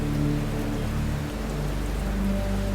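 Steady rain falls in a Hindi horror cartoon, a dense continuous wash of drops with a low hum underneath, loud and unbroken throughout.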